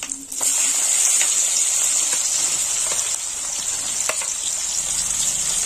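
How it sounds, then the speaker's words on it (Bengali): Chopped onion hits hot oil and erupts into a loud, dense, continuous sizzle that holds steady up close, with faint stirring clicks beneath. "দিয়ে দেবো কুচো পেঁয়াজ।"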